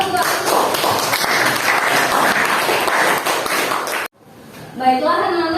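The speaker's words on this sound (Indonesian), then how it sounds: "Berikan tepuk tangan untuk" Children in a classroom clap together in a loud, dense burst that cuts off abruptly, followed by a teacher's voice speaking.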